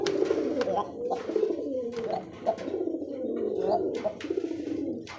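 Pigeons coo in low, rolling murmurs throughout, close by, mixed with a man's speech.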